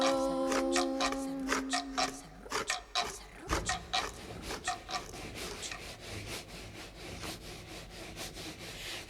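Handsaw strokes cutting through wood, a steady run of raspy back-and-forth rasps that keeps going from start to finish, close and fairly loud. A sustained tone plays alongside at the start, and there is no talking.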